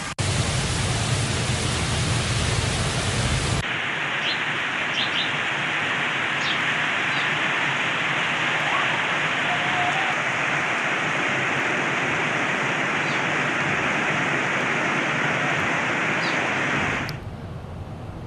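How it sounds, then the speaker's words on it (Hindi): Heavy rain pours steadily with strong wind over Karachi streets, a dense continuous roar that stays loud and unbroken, with no talk, before easing off at the very end. "गुलबहार, साइट एरिया, गुलिस्तान जौहर में तेज़ हवाओं के साथ बादल जमकर बरसे।"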